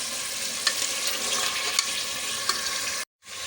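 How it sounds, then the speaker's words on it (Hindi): Beef pieces frying with ginger and garlic for nihari give a loud, steady, close sizzle with a few sharp pops, cut by a brief silence just before the end. "अदरक लहसुन के साथ और गोश्त के साथ थोड़ा सा भून लेंगे।"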